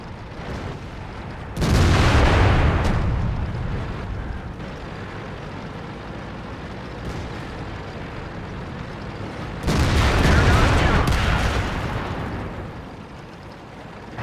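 Artillery shells land in World of Tanks, two heavy booming blasts about eight seconds apart, each a broad rumbling burst that swells and slowly decays over a low background din, with no talking.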